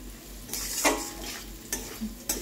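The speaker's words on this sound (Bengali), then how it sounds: "আলুটা নাড়বো" Boiled potatoes are stirred in a pan over heat, with a soft sizzle under intermittent scraping strokes of a utensil against the pan at moderate volume. No voices are heard.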